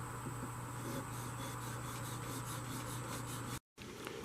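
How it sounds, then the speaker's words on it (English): A blade being sharpened on a 1000 grit Japanese waterstone, a steady rasping scrape repeated in even strokes, close and alone with a constant low hum beneath, cut by a brief silence near the end. "This is a 1000 grit Japanese Waterstone, and I'm going to try to sharpen the blade now."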